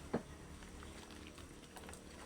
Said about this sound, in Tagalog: Kasi kumukulo na yung tubig.